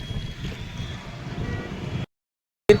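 A flood rescue boat fitted with two engines moves across floodwater in Prayagraj, giving a steady low motor rumble mixed with wind buffeting the microphone, then a sudden cut to silence before a brief burst returns.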